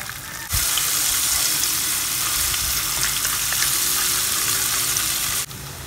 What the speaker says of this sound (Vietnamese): Xào gừng cho nó vàng lên rồi mình chiên nước mắm nha.